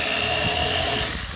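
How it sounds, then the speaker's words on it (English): Power drill with its bit laid sideways at an angle in a hole, enlarging it while the motor whines; a short, steady, loud burst of cutting, close and with no talk. "I took my drill bit, laid it in our hole sideways at an angle,"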